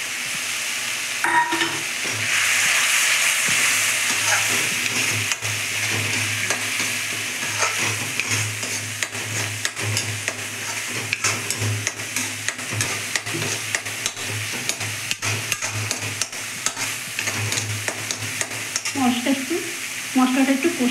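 Mustard, poppy seed and green chili paste frying for Bengali katla fish curry, a loud continuous sizzle with frequent scraping strokes of a spatula against the pan throughout, busy and close.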